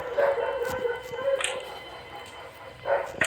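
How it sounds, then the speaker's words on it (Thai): A dog barks a few short, sharp times in the Granny 2 horror video game, moderately close, in brief bursts separated by quieter stretches of game ambience. "หมาเห่า"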